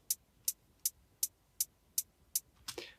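Trap beat hi-hat pattern programmed in Ableton Live, about eight crisp evenly spaced ticks followed by a slightly noisier open hit at the end, quiet and isolated.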